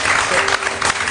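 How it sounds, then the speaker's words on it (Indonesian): A short burst of studio audience applause on an Indonesian TV talk show, a loud, dense wash of clapping lasting about a second, with some crowd noise mixed in. "tepuk tangan dulu dong."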